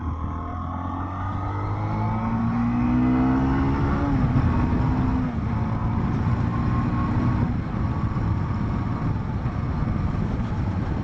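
A Zontes T310-T motorcycle engine, recorded from the rider's position, revs up through the gears with rising pitch that drops at each shift, over steady loud wind rush.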